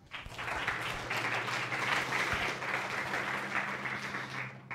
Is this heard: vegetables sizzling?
no